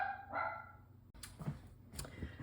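A dog barking indoors, a few short, sharp barks in quick succession, fairly faint and somewhat distant, with no talk over them.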